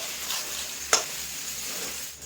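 Sago pearls frying in ghee over a low gas flame, giving a steady soft sizzle alone with one brief scrape of stirring partway through.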